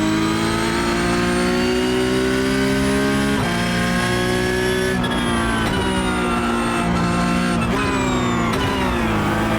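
A Porsche 992 Cup car's engine howls at high revs while lapping Imola in iRacing, holding a steady loud drone with several sharp pitch drops at gear changes, alone with no talk.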